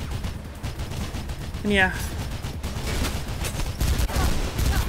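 Gunfire in Mirror's Edge: a rapid run of automatic shots in the middle stands out over background game noise. Later come scattered fainter bursts, with a brief spoken remark.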